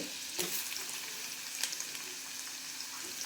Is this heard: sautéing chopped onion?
yes